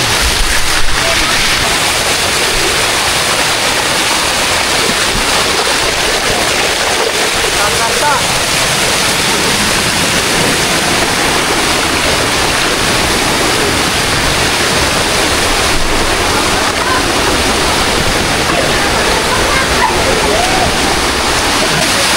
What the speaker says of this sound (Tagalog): wala ka na ibang maririnig kundi ang tunog ng mga agos ng tubig